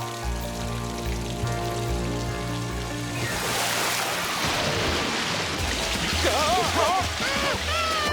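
Rain falls on a campsite in an animated Curious George cartoon: a continuous, dense hiss of rainfall through the whole stretch, with tonal music beneath it and some whistling sounds near the end.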